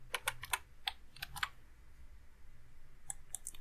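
Code for WS2812B pixel LED strip effects typed on a computer keyboard: quick close clicking keystrokes in bursts, a pause, then a few more taps, with no talk.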